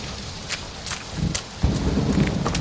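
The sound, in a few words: thunderstorm with thunder and rain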